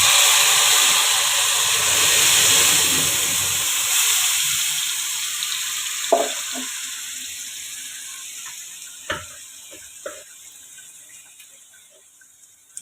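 Gravy poured into hot oil tempered with mustard seeds and cumin for rajma, a loud hissing sizzle that gradually dies down, followed by a few faint clinks and taps.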